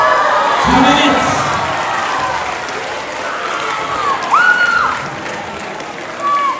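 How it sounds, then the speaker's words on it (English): An audience at a school talent show applauds and cheers after a speedcubing act, a steady wash of clapping with a few shouts and whoops rising above it, while voices talk. "Let's give them a round of applause"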